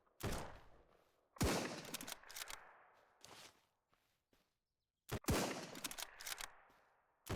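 Enemy bandits fire at the player in SurrounDead. Sharp, loud bursts of gunfire come in two main volleys with shorter shots and brief silences between them, and no talking.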